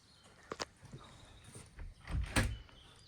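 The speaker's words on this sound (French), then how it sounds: "On ouvre la porte." The door of a custom-made cabinet in Morocco swings open with a soft knock and a low rumbling slide near the end, preceded by faint clicks, close by and without talk.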